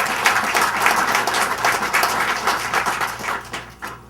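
An audience at a civic gathering celebrating Albuquerque, New Mexico, breaks into a dense, sustained round of applause, many hands clapping steadily at close range and tapering slightly near the end.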